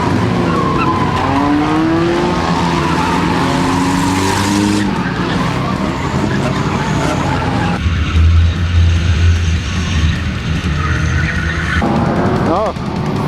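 A race car in a night enduro video game roars continuously, tires squealing and skidding through corners with engine pitch rising and falling, loud and close, alongside someone speaking.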